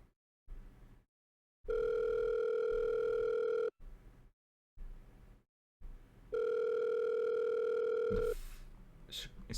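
Telephone tones open a voicemail recording: two long, loud, steady beeps separated by short gaps and brief low noise, followed by a sharp click and some scattered sounds.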